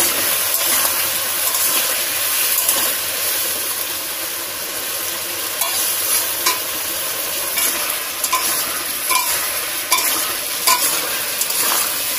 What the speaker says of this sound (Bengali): এবারে পরিমাণ মতন লবণ আর একটু হলুদ দিয়ে এবারে ছাকা তেলে ভালো করে ভেজে নেব।